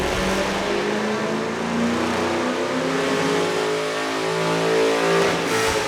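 A 2006 Ford Mustang GT with an SLP exhaust revs hard on a dyno, its V8 climbing loudly through rising harmonic pitches in a close, aggressive wail, dipping briefly before pulling up again.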